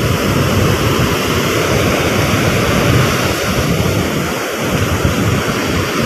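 Big storm-driven sea waves, a loud continuous roar of surf and wind buffeting close by with no pauses.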